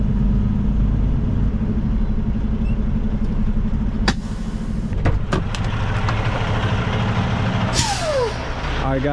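A truck's air suspension lowers with the engine rumbling loudly nearby, marked by sharp bursts of air hiss and a falling, sweeping release of pressure.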